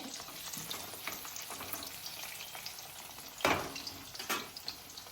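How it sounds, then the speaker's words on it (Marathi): French fries frying in oil with a steady low crackle and sizzle, broken by a couple of sharper clatters from a utensil. "गाईज तुम्ही बघू शकता की मी फ्रेंच फ्राईज बनवतोय, ट्राय करतोय"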